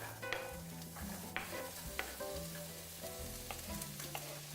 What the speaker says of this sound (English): Just gonna put a little olive oil in our pot over here. And you get that nice sizzle